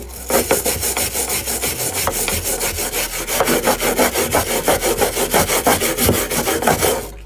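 Coarse-grit sandpaper scrubs rusted metal on a Peugeot Partner cab in quick, regular back-and-forth strokes, each one a close, gritty rasp, repeating rhythmically without pause.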